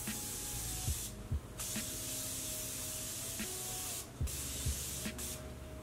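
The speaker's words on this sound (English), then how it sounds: "So now I'm going to use my Morphe setting spray." Morphe setting spray mists onto a face in several long hissing pumps, close and steady, broken by a few short pauses between sprays.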